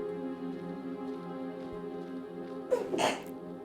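A single sharp sneeze bursts out near the end, close and loud over a quiet steady hum.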